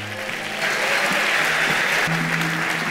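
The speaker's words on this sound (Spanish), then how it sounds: "Un gran aplauso a Roque Sevilla." Full audience applause at a live business talk show, a dense, sustained wash of clapping that swells in after a brief lead-in with a low musical tone underneath, loud and continuous throughout.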